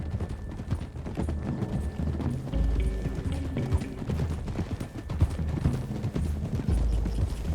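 Horses gallop in Red Dead Redemption 2, their hooves beating a fast, continuous clip-clop at moderate loudness, with game sounds mixed in and no speech.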